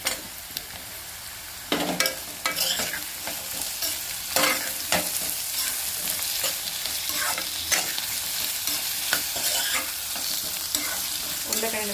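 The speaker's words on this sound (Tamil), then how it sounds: "உருளைக்கிழங்கு சேர்த்துட்டு கொஞ்ச நேரம் இது ஃப்ரை ஆகிற வரைக்கும் வெயிட் பண்ணணும்" Potatoes sizzle steadily in a pan of hot oil for Kerala-style pori kulambu, with loud scraping and clattering stirs breaking in every second or so; no one speaks.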